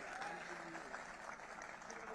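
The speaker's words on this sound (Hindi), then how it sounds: "सारे लोग ज़रा मिलकर मुझे अपनी तालियों से इजाज़त दे दें" An audience at a mushaira in Lucknow claps in a steady, dense patter throughout, with crowd murmur and speech mixed in.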